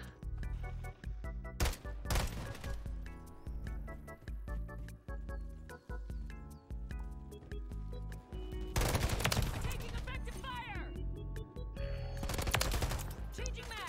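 Rapid gunfire and bursts of automatic fire from a Call of Duty Modern Warfare 3 or Battlefield 2042 match, loud and dense in repeated volleys, with heavier flurries later on.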